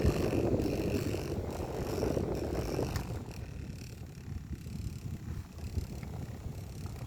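A steady, broadband whoosh of a small 18V fan converted to 12V running close by on speed setting 2, with rushing airflow that drops slightly in intensity partway through.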